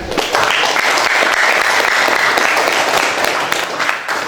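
Steady applause from a university classroom audience after a teaching session, dense continuous clapping that carries on evenly before easing slightly at the end.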